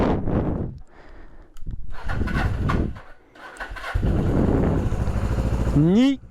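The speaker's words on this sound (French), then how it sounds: "Et maintenant il n'y a plus qu'à démarrer la moto." A motorcycle engine cranks and catches after sitting unused for about two weeks, rising to a steady idle near the end, with a voice speaking over the start.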